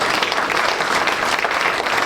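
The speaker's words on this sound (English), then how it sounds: "You can clap, Kate." Audience clapping at a library's annual community event, a loud, dense, sustained burst of applause close by, steady from start to finish.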